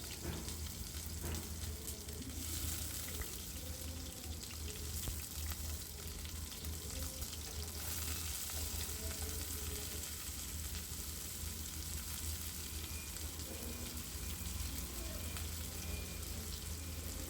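Pumpkin and shrimp frying in a pan give a steady, close sizzle that runs unbroken throughout, with occasional light stirring and faint background noise.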